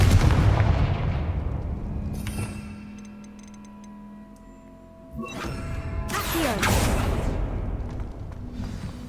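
Blasts from the Confringo fire spell in Hogwarts Legacy: a loud explosive burst, a ringing decay, then a second heavy blast with crackling debris, over game ambience.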